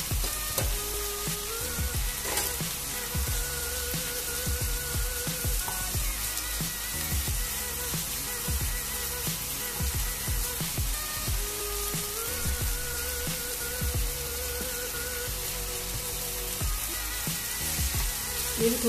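Chopped tomatoes and ginger-garlic paste frying in a pan for an egg and spinach curry, a steady dense sizzle with occasional stirring scrapes, close and continuous with no talking.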